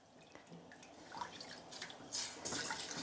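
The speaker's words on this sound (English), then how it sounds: "Stir that up, scraping the bottom." A spoon stirs and scrapes the bottom of a pot as milk goes into a flour paste for white sauce. The wet sloshing and scraping is quiet and grows a little louder with a few firmer scrapes near the end.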